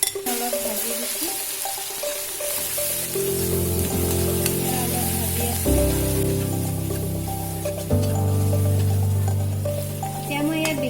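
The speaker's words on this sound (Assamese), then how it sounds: "অলপ ভাজি দিছোঁ।" Whole spices, salt and ginger-garlic paste frying in a pan for rajma and paneer curry, a close sizzle with stirring, scraping and pan clatter, plus steady tonal hums over the sizzle.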